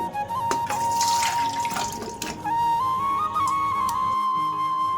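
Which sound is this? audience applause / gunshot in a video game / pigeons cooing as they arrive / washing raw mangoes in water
washing raw mangoes in water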